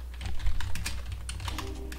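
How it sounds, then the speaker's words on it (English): Rapid, irregular typing on a computer keyboard, close and crisp, with clustered key clicks over a low background hum and no talking. "What are you typing?"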